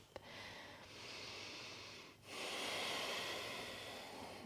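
Slow, deep breathing held during a yoga low lunge: a long inhale followed by a fuller hissing exhale, close and quiet with no speech.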